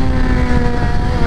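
A 2024 BMW M1000XR sport motorcycle, a little under 500 pounds, accelerates hard in first gear, its engine a loud, steady, high-revving roar heard close with no talk.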